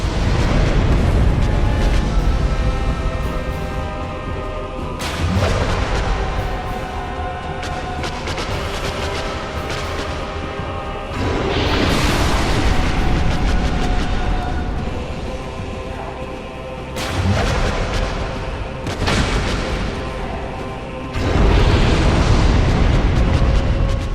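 Booming explosions from the Quelaag boss's blast attack in the Dark Souls video game arrive in repeated heavy bursts with rumbling tails, loud and unaccompanied by talk.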